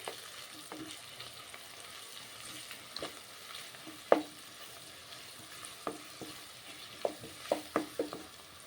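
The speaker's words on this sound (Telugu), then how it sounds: "ఇప్పుడు పసుపు, అల్లం వెల్లుల్లి పేస్ట్ పచ్చివాసన పోయేంత వరకు ఈ విధంగా కలుపుకొని మగ్గించుకోవాలి." Ginger garlic paste and turmeric with softened onion are stirred in a pan, a quiet low sizzle under occasional spoon scrapes and clinks that grow more frequent toward the end, close by and fairly faint.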